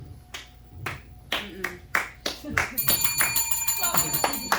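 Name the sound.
audience clapping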